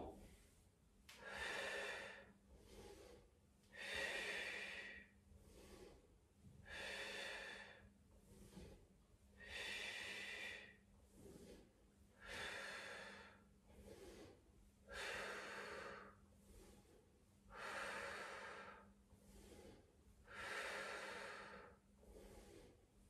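Repeated breaths in and out during pelvic floor strengthening exercises, eight or so rhythmic close breathy cycles, each lasting about two seconds with short pauses between, steady and unhurried, no talk.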